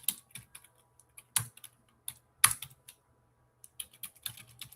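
Quick, sparse keystrokes on a computer keyboard, close and quiet, tapping in short irregular bursts with brief pauses between them.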